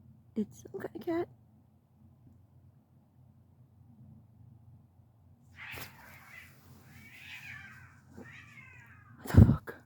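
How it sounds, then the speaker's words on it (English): A cat meows outdoors at night, a few faint calls spread across the clip, then one loud sharp sound close by, with low steady background hum throughout. "But it's some kind of cat."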